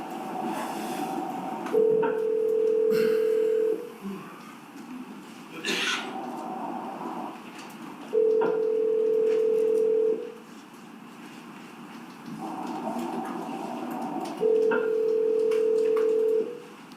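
A played recording of a phone call going to voicemail, with a repeating ringback tone sounding three times in long steady beeps separated by pauses, faint hiss and small clicks between rings.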